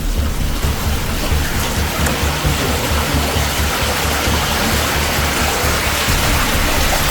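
The Nagatirtha stream near the Kamalashile cave shrine rushes as a loud, continuous flow, a full broadband wash of water that stays steady from start to finish, with no talking.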